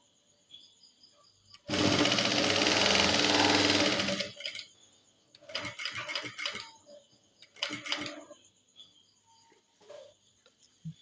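A sewing machine stitching a girl's school uniform pant runs in a loud, steady whirring burst for about two seconds, followed by quieter clicks and fabric handling, with no talk.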